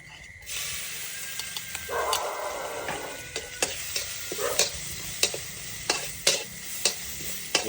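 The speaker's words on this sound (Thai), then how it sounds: "พริกกระเทียมลงไป" Chili and garlic hit hot oil in a wok for stir-fried basil pork, a loud sizzle that rises sharply after the first half second, with regular spatula scrapes and clanks and no voices.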